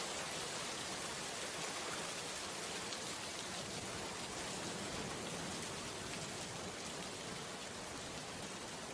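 Rain pours in a dense, even, unbroken hiss of drops striking surfaces, fairly quiet and steady throughout a cartoon scene, with no voices or other sounds.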